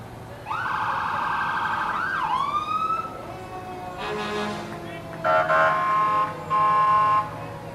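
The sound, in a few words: fire and rescue vehicle sirens and horns in a parade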